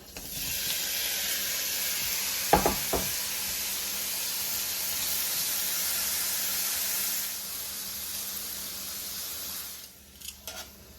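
Shrimp sizzling in hot oil in a pan for chicken and shrimp fried rice, a steady broadband hiss that runs throughout, with a couple of brief clatters near the start and again at the end.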